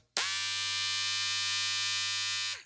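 Newer model electric hair trimmer running close by, a single steady buzzing hum that starts abruptly, holds evenly for over two seconds, then winds down as it is switched off.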